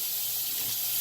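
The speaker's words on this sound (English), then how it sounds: "I'm just running water over these" Tap water runs hard into a kitchen sink over live blue crabs, a loud steady hissing rush close by that holds unbroken the whole time, with no voices.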